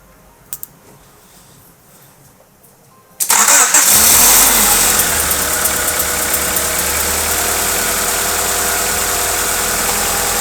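A Honda Accord CB7 fitted with new exhaust headers cranks briefly and then fires up to a loud, close, steady idle with a rough, uneven edge, heard alone with no talking.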